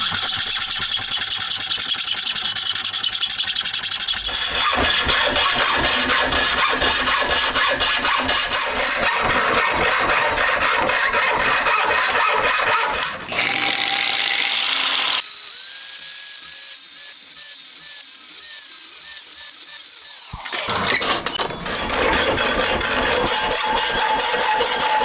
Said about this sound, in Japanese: あとは手のこやグラインダーを使って開けた穴に沿って切っていきます。